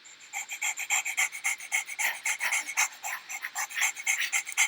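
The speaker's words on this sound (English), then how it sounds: "But that's a dog panting." A dog pants quickly and rhythmically, quick breathy huffs repeating steadily, fairly quiet and close.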